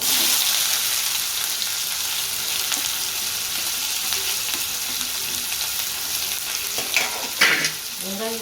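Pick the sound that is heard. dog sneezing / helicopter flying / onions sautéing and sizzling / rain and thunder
onions sautéing and sizzling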